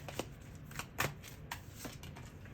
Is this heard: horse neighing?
no